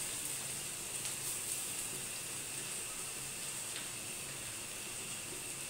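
Grated potato and carrot with curry leaves frying in a pan for a masala dosa filling, a faint, steady sizzle and hiss that continues evenly throughout.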